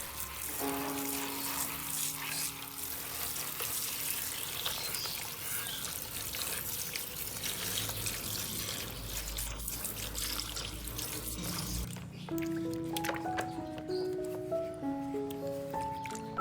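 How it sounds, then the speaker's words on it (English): An orchid is rinsed under running tap water, a steady continuous splash and trickle into a sink lasting throughout, with faint background music tones and no talking. "Don't forget to rinse your orchid with clean water."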